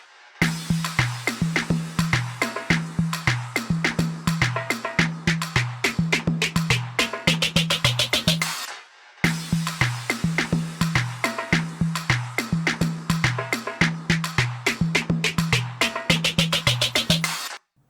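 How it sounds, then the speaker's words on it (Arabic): A percussion drum loop from a track plays with a console filter set to 70 and added saturation. The punchy, steady pattern repeats twice with a short gap between passes, and no voices are heard. "فده صوت الفلتر والساتوريشن اللي بيضيفهم الان كونسول"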